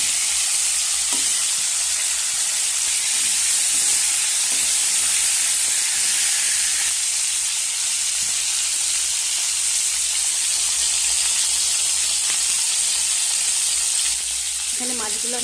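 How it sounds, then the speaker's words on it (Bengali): Pangas fish pieces fry in hot oil in a wok, giving a loud, steady sizzle and crackle that holds throughout with faint stirring clinks. "এবার আমি মাছগুলো ভেজে নেব।"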